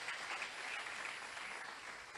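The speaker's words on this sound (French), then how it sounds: "Acclamons pour le Seigneur Jésus" A church congregation applauds for Jesus at a French-language prayer and fasting service, with steady, dense clapping from many hands that carries evenly through the hall.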